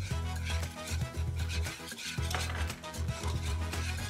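Flour being stirred into melted Lurpak butter in a pan to make a roux: a continuous scraping and swishing of a utensil against the pan, with rhythmic pulses and a soft low sizzle underneath, close and moderately quiet.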